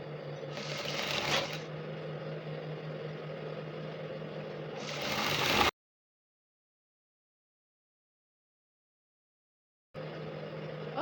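Sewing machine stitching a folded shirt seam for a woman's shirt, a steady close mechanical hum with a faint whir, a brief burst near the start, a gap of silence, then the stitching starts again.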